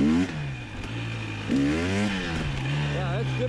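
A 2020 KTM 300 XC TPI motorcycle engine is revved with the throttle, the pitch sweeping up and down in quick, close surges over a steady idle.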